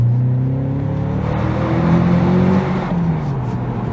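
A manual Honda Accord Euro CL9 engine pulls hard through a tunnel, its loud rising drone revving up close and then easing off.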